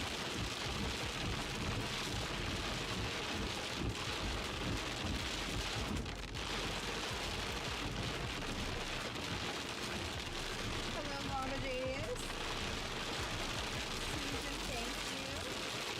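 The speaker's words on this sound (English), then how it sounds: "Some heavy rain." Heavy rain pours steadily during a tornado-warned storm with hail reported, a dense, constant roar of drops on surfaces, with faint talking underneath.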